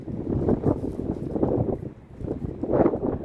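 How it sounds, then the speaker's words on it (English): Strong wind buffets the microphone in heavy, continuous low rumbling gusts that swell and ease, with no voices. "it's freaking so windy"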